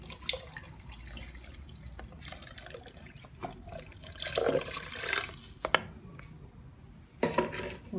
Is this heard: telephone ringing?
no